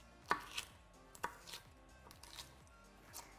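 A knife chops ingredients finely on a board for a spicy sucuk pizza filling, a steady run of close, crisp knocks that keeps a quick, even rhythm throughout.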